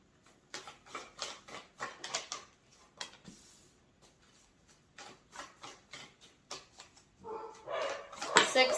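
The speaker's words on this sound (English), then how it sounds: "Don't mind my dogs, they're about to go crazy." Several dogs bark and yip in a burst of sharp, irregular barks, growing louder and more frantic toward the end, with a voice occasionally audible underneath.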